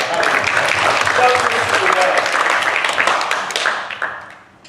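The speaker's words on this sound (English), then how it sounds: "A round of applause for David." Audience applause at a civic centre speaking event, a dense, sustained burst of clapping from the crowd that fades out near the end.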